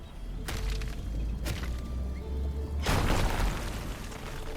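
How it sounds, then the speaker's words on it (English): A rock explosion in the video game RuneScape: Dragonwilds gives a loud, full boom with a broad rumbling burst. Earlier, sharper game impacts ring out over a steady low drone, and no one talks. "Let's do a rock explosion here."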